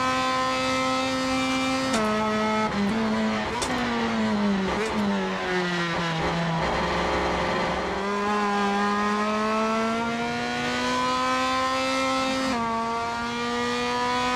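Race car engine in the Assetto Corsa driving game on a South American touring-car track, droning loudly and steadily with rising and falling revs through gear changes, plus brief tire squeal, with no talking.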